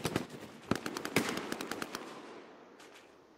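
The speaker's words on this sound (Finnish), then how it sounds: "Rinteestä ammutaan jostain." Rapid bursts of gunfire in the World War II shooter Hell Let Loose, a dense string of sharp cracks in the first two seconds, then sparser, quieter shots fading out.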